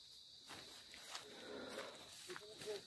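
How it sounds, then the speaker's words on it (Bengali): Crickets in the hills around Sinji, Kalimpong hold a faint, steady high drone throughout, under a quiet outdoor hush with soft rustles and brief voices. "ঝিঝি পোকার ডাক শোনা যাচ্ছে"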